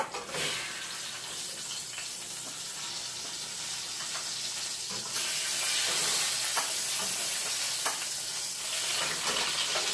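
Eggplant frying in hot oil in a pot, a steady loud sizzle and hiss that swells louder partway through, with no voices.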